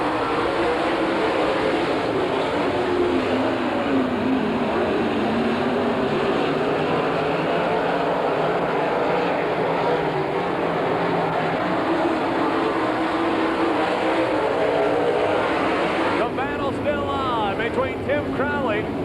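Race cars on a dirt track in an NCRA All Stars event give off a continuous, loud engine roar throughout, while a commentator talks over the noise.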